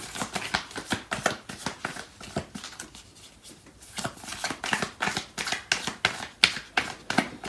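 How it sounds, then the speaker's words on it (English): Tarot cards shuffled and pulled from a deck, heard close up as a steady run of quick, crisp riffling slaps with a brief quieter stretch midway, no voices. "So I'm going to pull out some more cards from the other deck."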